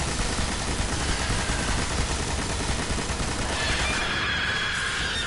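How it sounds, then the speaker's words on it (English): Sustained heavy-weapon fire in the video game Destiny, a dense, continuous barrage of rapid shots at steady loudness throughout, with no talk over it. "I'm gonna hit her with everything I got from my heavy weapon here"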